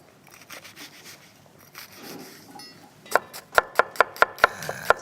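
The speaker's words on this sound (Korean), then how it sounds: "양파를 조금 굵게 다져서 준비하겠습니다" A knife coarsely chops onion on a board: soft scraping and light taps at first, then seven or eight sharp, evenly spaced, close chops.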